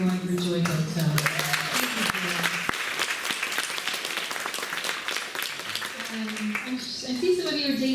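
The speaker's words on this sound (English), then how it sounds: "Round of applause" Audience applause at a Japanese American Citizens League Day of Remembrance event in Fresno, California, a sustained round of clapping lasting several seconds with voices speaking over its start and end.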